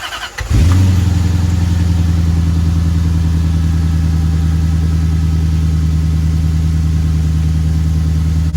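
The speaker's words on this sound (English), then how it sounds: "This is gonna be a really big cold start, because this thing hasn't started in like a week since I had this problem." A Lexus SC400 engine cold-starting after sitting for a week with an excessive-smoke problem, a loud, close catch followed by a steady, even idle that holds alone without any talk.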